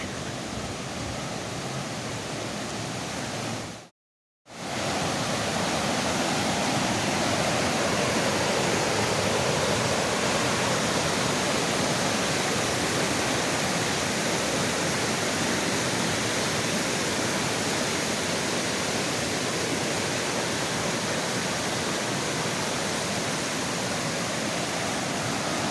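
A creek in Gatlinburg, swollen by heavy rain, roars with a dense, constant rush of water, loud and unbroken apart from one brief dropout early on.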